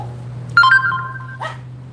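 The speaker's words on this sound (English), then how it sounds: "It's a dog over there," A single dog barks once at mid distance, a short sharp burst with a brief second yelp, over a steady low electrical hum.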